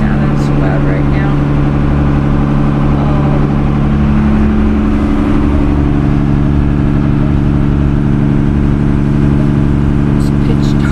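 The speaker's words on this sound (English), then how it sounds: "I don't know why the engine is sounding so loud right now." A trawler's engine runs loud and steady while cruising at night, a continuous low drone with strong tonal hum throughout, and a voice talks faintly over it.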